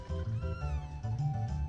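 A cat meows in the Chrono Trigger video game, giving a couple of close, clear, drawn-out cries in quick succession.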